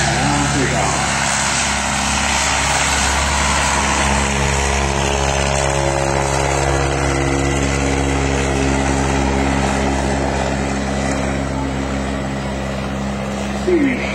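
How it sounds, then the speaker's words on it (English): A 1915 French SPAD biplane from World War I with a rotary propeller engine, heard at an airshow as a loud, steady engine drone under talk as it takes off, with the power holding constant throughout. "Here we go, 1915, the French Stag on takeoff."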